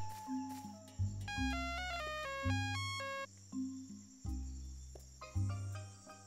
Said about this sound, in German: Telefon für dich. Satellitentelefon.